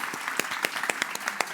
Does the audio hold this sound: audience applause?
yes